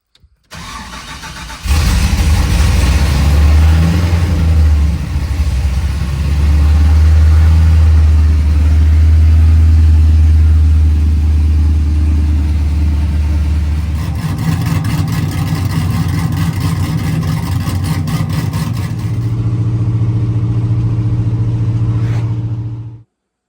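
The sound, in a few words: Ford OBS truck engine revving while driving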